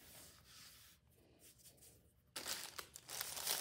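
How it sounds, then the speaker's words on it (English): Cookie dough for Jack O'Lantern cookies being unwrapped from parchment paper in a kitchen, with soft rubbing that gives way to loud, close crinkling and rustling of the paper. "Unwrap your dough."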